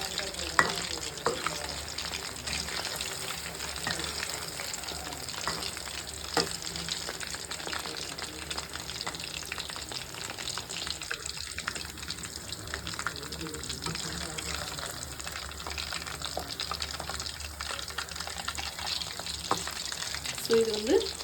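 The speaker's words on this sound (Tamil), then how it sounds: "ஸோ இது வந்து நல்லா வேகணும். ஒரு 10 to 15 மினிட்ஸ் வந்து இது வேக விட்டோம்னாக்கா சரிங்களா? மீடியம் ஃப்ளேம்லேயே வச்சு" Chicken 65 frying in a pan over a medium flame, a steady, dense sizzle running throughout with occasional stirring scrapes, close and continuous, no talk.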